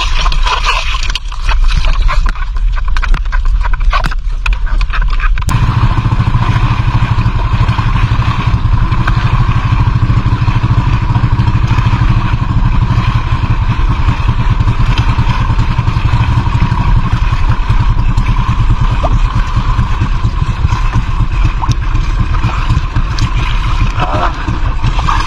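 A small fishing boat's engine running at sea, a loud continuous motor drone with clattering mechanical texture, rising in power after a few seconds and holding steady close by.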